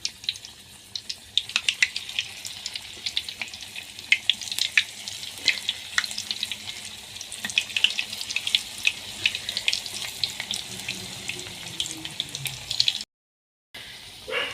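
Potato flowers frying in hot oil, a dense close sizzle crackling steadily with sharp pops and spits throughout, then a brief dropout before the frying resumes.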